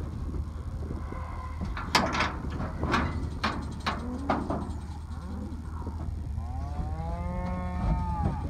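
Cattle moo repeatedly while being moved into a barn, several loud, drawn-out calls near and far over a steady low rumble, with a rising harmonic bellow toward the end.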